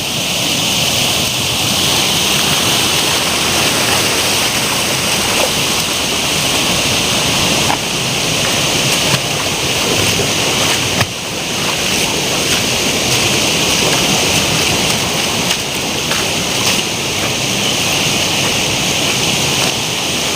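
A dangerously swollen stream at a village bathing spot near a Navala Devi shrine rushes past as a loud, steady roar of water, broad and unbroken, close by and with no voices over it.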